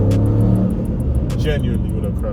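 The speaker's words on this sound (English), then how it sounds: "We're just driving now for the sake of driving." A Dodge Hellcat driving on the road in Dubai, its engine giving a steady loud rumble with a brief rise in revs partway through, heard from inside the car.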